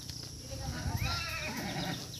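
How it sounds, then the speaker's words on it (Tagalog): A horse gives a short neigh, a wavering whinny rising and falling over about a second, heard outdoors among ambient noise and people talking nearby. "Kabayo."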